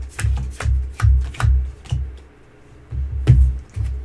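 Magic: The Gathering cards shuffled by hand up close, a series of quick riffling bursts with short pauses between them, loud and clear with no talking.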